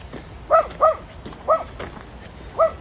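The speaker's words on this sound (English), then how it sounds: "There's a dog back there." Four short yips from a dog somewhere nearby in Spearfish Canyon, spaced irregularly, clear against a quiet outdoor background.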